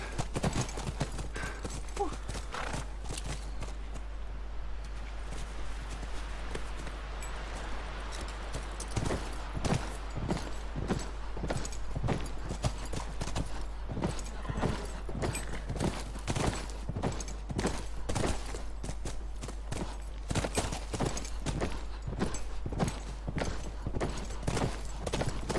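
Horses' hooves clip-clopping in The Last of Us on PS4, a steady rapid stream of hoofbeats throughout, with a low constant hum underneath and no talk.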